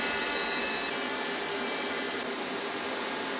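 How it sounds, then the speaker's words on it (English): A TIG welder works on a metal cart frame, giving a steady loud buzzing hiss that runs unbroken for several seconds and then cuts off abruptly, with no voices. "Now it's time to weld it all together."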